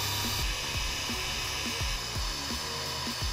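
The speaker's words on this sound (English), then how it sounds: "Now this little thing is a dog dryer," A small dog dryer blows heated air into a wet car sill under repair, a steady broadband rush with a rhythmic low pulsing throughout.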